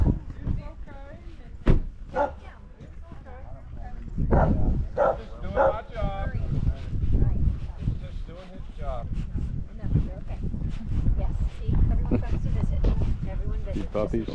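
Small dogs yip and bark in quick bursts close by, with whimpers between, over a busy background of voices and movement.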